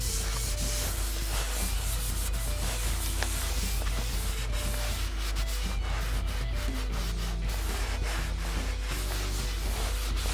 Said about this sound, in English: so they will be hand sanding